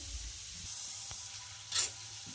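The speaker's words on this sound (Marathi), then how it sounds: "अशाच पद्धतीने आपण बाकीची सुद्धा शंकरपाळी फ्राय करून घेणार आहोत" Shankarpali fry in hot oil with a faint, steady hiss and crackle, and one brief louder bubbling spurt partway through.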